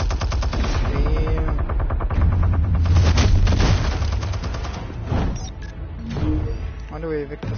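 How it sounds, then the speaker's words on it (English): Mini Gatling gun in Batman: The Telltale Series, firing in rapid continuous bursts of rattling shots with booming low thuds, loud and close, with a brief voiced remark over the gunfire. "Is like a mini Gatling gun in his office?"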